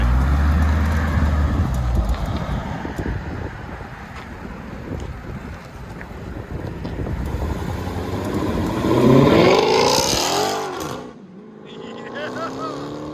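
A 2021 Dodge Charger Hellcat Redeye fitted with a Borla ATAK cat-back exhaust drives off, its engine noise rising to a loud, buffeting pass with wind roar before briefly dropping away and picking up again.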